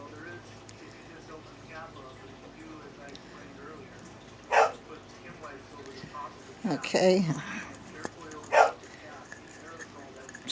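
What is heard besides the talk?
dog barking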